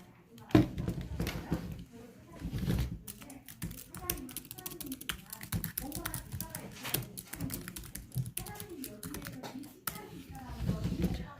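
Typing on a computer keyboard, a steady run of quick, close key taps with irregular rhythm and a few louder strokes, with faint speech in the background.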